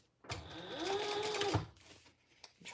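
Sewing machine top stitching the lining of a fabric sling, a close, steady whirring run of about a second and a half, then stopping, with faint handling sounds after.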